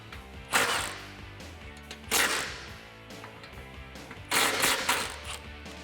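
A ratchet loosens the exhaust band clamp nuts under a 2018-2020 Mustang GT during a cat-back exhaust install. Three separate bursts of sharp, close clicking are spaced across the stretch, with quieter gaps between them.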